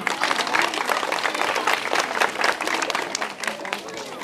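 Applause at a school graduation ceremony, a loud dense crackle of many hands clapping that continues steadily with slight surges throughout.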